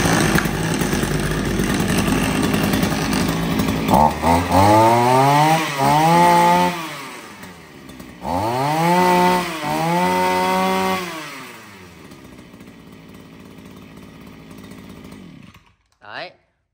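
A small two-stroke gasoline brush cutter engine with assisted pull start idles, then revs hard in two long bursts with rising and falling pitch, close and loud, before cutting off.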